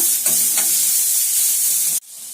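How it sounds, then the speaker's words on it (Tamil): Chopped onions sizzle in hot oil in a pan for Cuddalore-style fenugreek kuzhambu, a bright close frying hiss with a couple of stirring scrapes before it cuts off abruptly. "இதோட அரிஞ்சு வச்சுருக்க வெங்காயத்தை நான் சேர்த்துக்கிறேன் சேர்த்துட்டு நல்லா வதக்குங்க"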